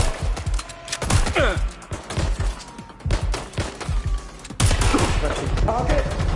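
Bursts of gunfire ring out in a Watch Dogs Legion shootout, a rapid fusillade of shots with thuds and booms, loud and close throughout, with voices shouting underneath.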